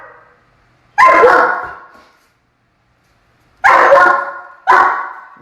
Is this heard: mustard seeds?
no